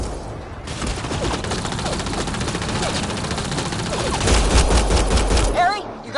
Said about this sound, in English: Just keep firing, we can do this!